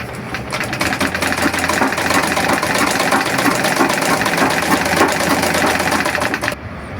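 A sewing machine stitches fabric at a steady pace, its rapid mechanical clatter running loud and close for several seconds before stopping abruptly near the end.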